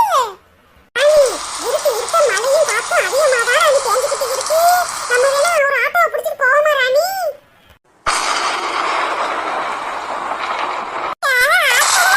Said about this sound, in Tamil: மழையும் காத்தும் புயலும் இடியுமா வந்துகிட்டே இருக்கு